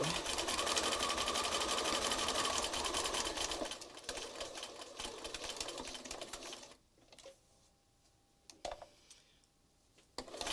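A sewing machine stitches a mixed-media collage card of scraps and lace in a steady run that fades to quieter intermittent ticks and short bursts near the end.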